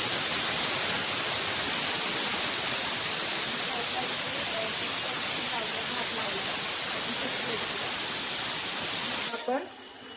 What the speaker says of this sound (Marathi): कढई घेतली आहे, ती गरम करायला ठेवली आहे आणि आता आपण याच्यामध्ये पुरण टाकू.